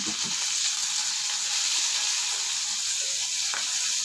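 Ingredients for a chili fish curry sauté in a pan with a loud, dense, unbroken sizzle and crackle, close up and alone.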